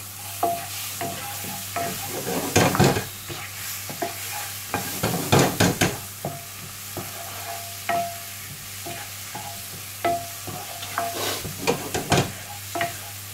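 Tomatoes frying in a pan for a Moroccan-style vegan tagine, a soft steady sizzle broken by repeated scraping stirs of a utensil, close and alone.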